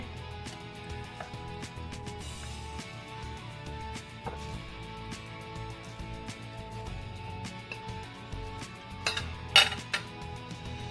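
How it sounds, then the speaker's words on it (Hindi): A Maggi noodle omelette being moved onto a plate: light clinks and scrapes of utensil against pan and dish scattered over a quiet kitchen background, with a sharper cluster of clinks near the end. "अभी हम इसको प्लेट में निकाल लेते हैं।"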